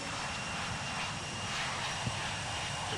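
Aircraft engine throttling up in the Infinite Flight video game, a loud, steady broadband roar that stays constant throughout, with no talking.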